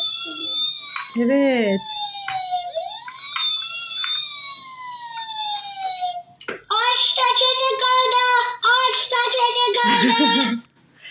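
A toy fire truck siren wails with high sweeping electronic tones, then a second burst of bright warbling beeps; a child and an adult speak briefly over it.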